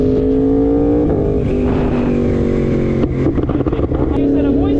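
A motorcycle engine with a freshly flashed ECU revs up in a rising, held tone, drops and crackles briefly, then climbs again, loud and close.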